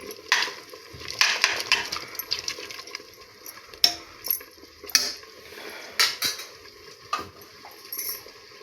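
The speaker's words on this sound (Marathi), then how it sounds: "नमक टाकून सगळं मिक्स करायचं." Spoon stirring food in a pan with salt and ghee, giving a series of scraping clinks and soft mixing sounds at irregular intervals, close by and moderately loud.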